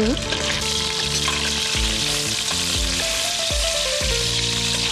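Fatty meat browning in ghee, a loud, close, continuous sizzle with periodic thuds and scrapes as it is turned and stirred.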